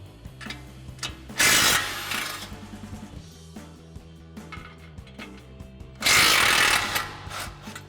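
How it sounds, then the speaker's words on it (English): Impact wrench fitted with an 18mm socket removing the lower strut mounting nuts on an F-150 during a Bilstein front leveling kit install, two loud rattling bursts several seconds apart with ratchet clicks and shop noise between. "remove our 2 lower strut mounting nuts using our 18mm socket on our impact"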